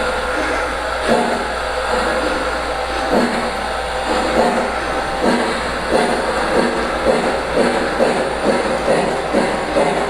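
A LionChief Plus Hudson model locomotive backs up on a Polar Express layout, with a steady mechanical whir and soft rhythmic track clicks repeating throughout. Close, moderately loud, and with no voices.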